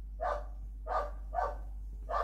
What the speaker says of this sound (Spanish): acá hay perro y todo, es una casa esto.